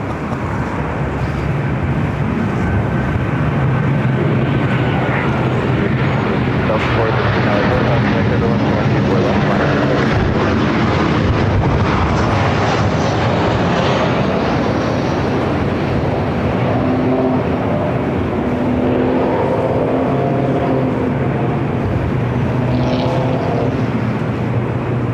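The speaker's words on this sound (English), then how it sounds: "Will there be any wake turbulence for this Korean Air A380 Super?" Korean Air Airbus A380 at LAX, a loud, continuous low jet roar droning steadily throughout as the heavy airliner passes, with voices talking over it.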